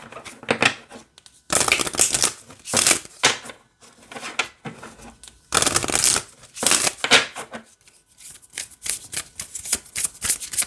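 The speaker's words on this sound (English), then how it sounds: "All right, let's shuffle." Tarot cards are shuffled repeatedly in crisp riffling bursts, each a flurry of papery flicks and snaps, separated by short pauses.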